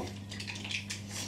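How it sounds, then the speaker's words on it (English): Bowls and dishes clatter and clink in a home kitchen while a giant cookie is being made, with light scraping and knocks of cookware close by, and a steady hum runs underneath. "We need another bowl."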